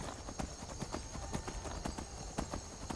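Horse hooves clop in a steady, rhythmic gait in the video game Skyrim, fairly close and continuous over a constant background hum.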